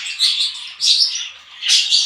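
Pet budgerigars chirp in a cage, giving bright, high twittering warbles in three close bursts with brief dips between, loud and near with no talk.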